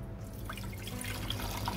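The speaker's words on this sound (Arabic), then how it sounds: "هنبتدي اول حاجه ان احنا هنحط الميه بتاعتنا" Water running steadily into a pot at the start of making karak tea, a continuous close splashing stream with faint dripping and no talk.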